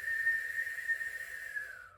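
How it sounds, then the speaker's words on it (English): Whistling breath pushed through puckered lips, a single steady airy tone about two seconds long that holds level and then fades out, close and fairly quiet with no other sound. "this is the whistling breath"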